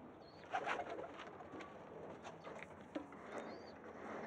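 Pigeons cooing nearby in a loft, soft low throaty coos repeating irregularly, with a few faint bird chirps and light rustling in a quiet space.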